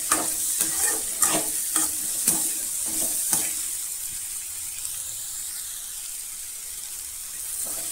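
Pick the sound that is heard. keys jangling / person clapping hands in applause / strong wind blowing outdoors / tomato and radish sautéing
tomato and radish sautéing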